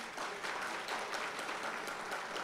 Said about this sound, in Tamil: ஒட்டு மொத்தமாக ஒரு கைத்தட்டல் கொடுங்களேன்